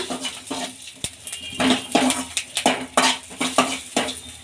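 Urad dal and fenugreek seeds stirred in a tablespoon of hot oil in a pan for raw mango gojju, a spoon clanking and scraping against the metal in quick uneven strokes over a faint sizzle, close up and without speech.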